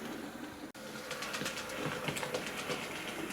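A Hornby P2 R3440 gloss model locomotive running on a model railway track, giving a steady close whirring motor sound with light rhythmic clicking from the rails and a brief dropout near the start.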